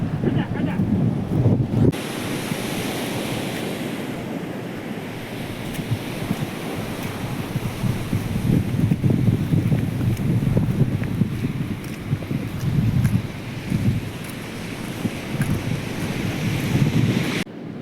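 Sea waves wash onto the shore at Dwarka, Gujarat, as a continuous surf roar that swells and eases in slow surges, mixed with buffeting wind.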